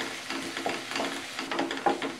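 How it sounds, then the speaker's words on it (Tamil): Ginger garlic paste and green chillies sizzle steadily in a hot pan with occasional scraping stirs, close by and fairly quiet. "சேர்த்துட்டு நல்லா வதக்கி விட்டுக்கலாம்."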